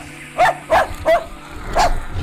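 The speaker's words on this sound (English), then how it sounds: "The big dog barked." Dogs barking at close range, with four short, punchy barks in an uneven rhythm over a low background hum, followed by quiet.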